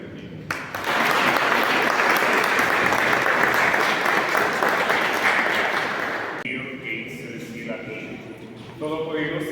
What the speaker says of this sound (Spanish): Le damos un fuerte aplauso a la Virgen del Cielo.